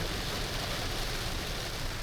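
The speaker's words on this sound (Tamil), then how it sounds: "செம்மையா கொளுத்துட்டு இருக்கு மழை." Heavy rain pours down in a dense, steady roar with no break, loud and close like a downpour in a stormy gale.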